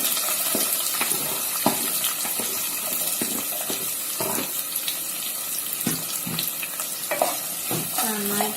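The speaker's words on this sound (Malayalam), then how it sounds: "നന്നായിട്ടൊന്ന് മിക്സ് ചെയ്ത് കൊടുക്കണം" Shallots being stirred in hot oil in a pan for pepper chicken, with a bright continuous sizzle and repeated scraping strokes of a spoon, close and loud, with no talking.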